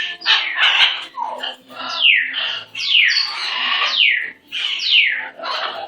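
A pet bird gives a run of loud, close, raspy squawks in quick bursts, one after another for several seconds, with no voices over them.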